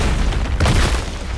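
A Stone Coffin finisher move from the video game TSB lands as a loud, dense boom with a burst of crashing noise in the middle, settling into a steady rumble.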